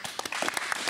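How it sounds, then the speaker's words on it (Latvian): A short burst of clapping from a few people in a podcast studio, a handful of sharp, close claps over less than a second. "Mums ir bijuši aplausi."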